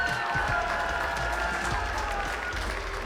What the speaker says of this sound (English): Can we get a round of applause for our Street Fighter 6 players